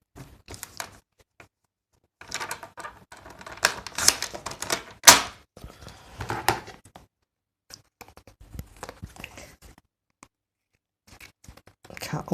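Scissors trimming material down in crafting work, a series of short crisp snips and rustles in irregular bursts, close and fairly quiet, with quiet gaps between.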